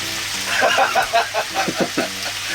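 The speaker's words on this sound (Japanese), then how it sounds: "もうほんとあとはもうこれをね、しっかりカリカリになるまで焼き上げるだけなんで" Chicken skin fries in a pan until crispy, rendering its fat for a Japanese street-food snack. A close, steady sizzle carries scattered pops and crackles.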